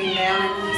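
A 3.5-month-old black-and-white kitten gives one drawn-out, fairly loud meow at close range, with no talking.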